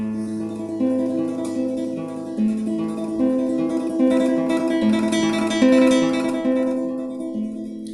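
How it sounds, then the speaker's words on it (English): Classical guitar plays a rapid tremolo in the style of Spanish Golden Age music, sustained repeated notes over a moving bass that swell in a gentle crescendo near the middle and then ease back. "what you hear now is I made a little crescendo and then I moved away again in the tremolo"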